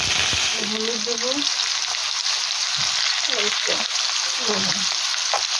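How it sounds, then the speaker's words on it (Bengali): Potatoes frying in hot oil in a pan, a steady close sizzle with occasional stirring, alone with no talk. "আমি আলুগুলো ভেজে নিচ্ছি।"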